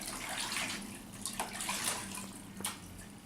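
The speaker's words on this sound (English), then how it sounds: "Again, rinse that off." Kerosene being rinsed off hands under running water: a close, steady splashing flow from a tap with uneven surges as the hands move through the stream.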